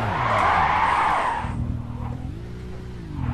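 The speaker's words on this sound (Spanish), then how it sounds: "voy a hacer el típico trompo de siempre" A Nissan GT-R Spec V 09 spins out on the Tsukuba circuit in a racing video game, opening with a loud, broad tire skid that dies away after about a second and a half, leaving a steady engine drone that rises and dips.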